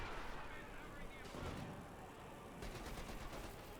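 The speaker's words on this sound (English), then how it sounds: "We've got artillery called in here on Ashablois positions by the centre victory point." Artillery barrage in the WWII strategy game Company of Heroes 2: a dense, continuous rumble of shelling and gunfire, loud and steady throughout, with a voice talking over it.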